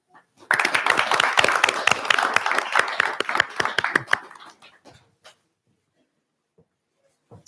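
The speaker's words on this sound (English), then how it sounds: "A round of applause for yourselves" A burst of audience clapping at an awards prize-giving ceremony starts suddenly, holds for a few seconds, then thins to scattered claps and fades into quiet.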